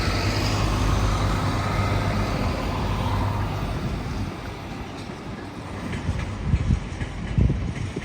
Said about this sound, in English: It's an LNER Intercity 225 set going from London King's Cross to Leeds.